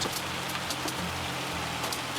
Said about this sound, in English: And it starts raining out.